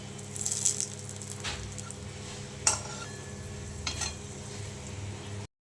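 A snack frying in oil in a pan gives a steady close sizzle, with a few clinks and scrapes of stirring scattered through it and no talking.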